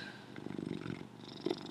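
A cat purrs close by while rubbing against a laptop, a soft low rumbling purr that rises and falls, with a faint bump or brush partway through.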